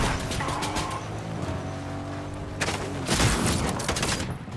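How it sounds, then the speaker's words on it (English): Gunfire from AI enemies in Fortnite, bursts of sharp shots rattling in clusters, loudest near the end, with game sounds mixed underneath. "Now we got AI shooting."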